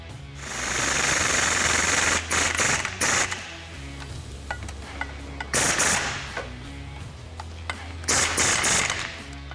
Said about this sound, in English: make sure that the bolts start before using a power tool on them to spin them in.